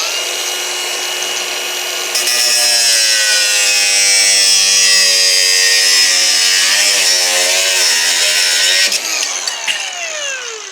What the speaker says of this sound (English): when you're cutting, make sure you hold the brush into the aluminium because it will slide along with the vibration of the cutter